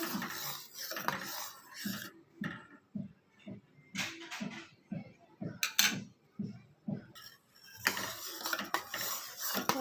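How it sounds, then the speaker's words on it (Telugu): Milk boiling down in a pot being stirred with a metal spoon: irregular scraping and clinking strokes against the pot come in short bursts with brief pauses, close and soft, with no talk. "ఇలా పాలు దగ్గరగా వచ్చేంత వరకు బాగా మరిగించుకోవాలండి అలా మధ్య మధ్యలో కలుపుకుంటూ ఉండాలి"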